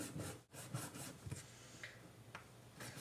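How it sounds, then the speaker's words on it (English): Faint scraping and twisting of a screw being turned by hand inside a hole to widen it for a bolt, a close, low rubbing grind with a few brief squeaky scrapes, no talking. "just put the screw inside the hole and just twist it around"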